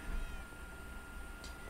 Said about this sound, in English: I know a real cat wouldn't do that, but you know. It's Minecraft, what do you expect?